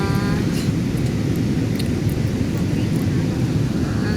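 An airplane landing at Davao gives a loud, steady engine and cabin roar throughout, with brief voices faintly present.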